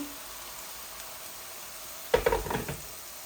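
Flat beans frying in a pan with a little water, a quiet hiss and then a sudden burst of crackling sizzle that flares several times before easing.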